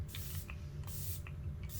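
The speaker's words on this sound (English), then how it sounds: "Let's hit some setting spray." e.l.f. Stay All Night Microfine Setting Mist sprayed onto the face, three quick close pumped hisses at an even rhythm, with no talk.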